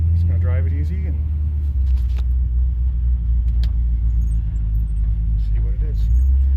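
An old truck that hasn't been on the road in a while, with likely bad gas, drives at easy speed; a steady loud engine rumble and road noise run throughout, with someone talking over it.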